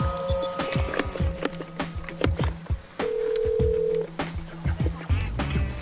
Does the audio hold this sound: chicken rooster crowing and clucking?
no